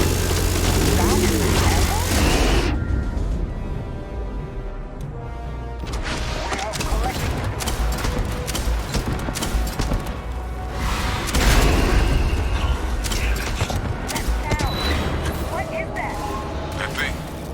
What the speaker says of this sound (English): Concentrate fire! Shoot!